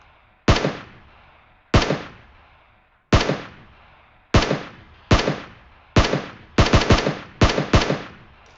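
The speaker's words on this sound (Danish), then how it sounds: "Jeg hører bare skudd" Gunfire in PUBG: about a dozen sharp, loud single shots, spaced unevenly at first and then coming in quicker bursts, each one ringing out with a short decaying tail, and no voices over them.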